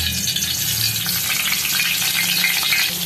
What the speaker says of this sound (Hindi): अब ये हम जो है सारे इसको ये फ्राई कर लेंगे सारे बैगनों को।